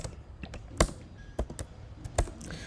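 Close keystrokes on a computer keyboard while CSS animation code is typed: a handful of sharp, separate taps spread unevenly, with short pauses between them.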